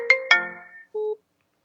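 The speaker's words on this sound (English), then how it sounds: "think that was a phone call we got coming in somehow on the computer" A ringtone for an incoming call sounds on a computer: two bright, quick chime notes followed by a single lower tone, short and loud against silence.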